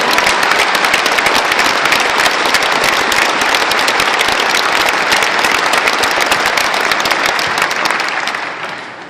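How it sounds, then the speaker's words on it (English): An audience at a military deployment ceremony gives a long, loud round of applause. The dense crowd clapping holds steady for several seconds, then tapers off at the end. "let us give you a hand and a round of applause too"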